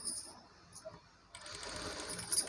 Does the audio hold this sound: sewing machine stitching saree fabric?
yes